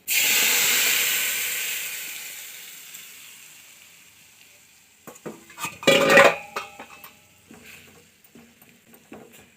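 Sliced ivy gourd goes into a hot oiled pan for a stir-fry, giving a loud burst of sizzle and hiss that slowly fades, followed by clattering of a spoon and pan stirring the vegetables.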